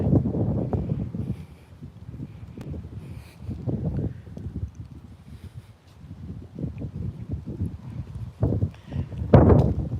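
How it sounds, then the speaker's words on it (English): Breezy wind gusts outdoors during a fitness walk, heard as low rumbling buffets against the microphone that rise and fall, with faint footstep-like thuds underneath. "it's a little bit breezy out here"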